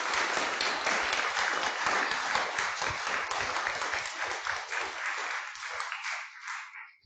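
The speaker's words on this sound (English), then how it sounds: "Let's give them a round of applause." Audience applause following talks at a scientific conference on memory, a dense burst of many hands clapping that holds steadily and then tapers off toward the end, with no voices over it.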